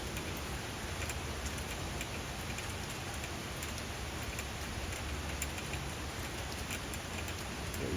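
Steady rain falls outdoors, a soft, even patter of drops hitting surfaces that continues without a break, quiet and distant, with no talking.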